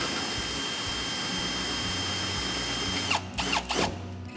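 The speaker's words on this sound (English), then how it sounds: "my drill because it's got an adjustable clutch that's going to allow me to not overdo things" A continuous whirring drill with a 19mm socket turns a caravan stabiliser leg, grinding steadily for a few seconds, then stuttering through several brief bursts and pauses near the end, close and fairly quiet.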